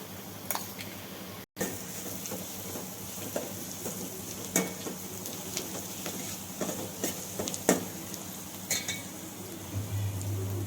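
Onions frying in a pan with green chili and coconut paste for a North Karnataka curry, a soft continuous sizzle punctuated by scattered clinks and scrapes of a spoon stirring against the pan.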